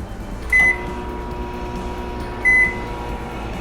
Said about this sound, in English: Microwave my chicken for about a minute and a half